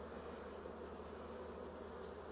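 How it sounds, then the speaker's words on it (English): Honey bees clustered in a tight clump on a patio give a steady, close buzzing drone that holds evenly throughout, with no voices. "Look at all those bees."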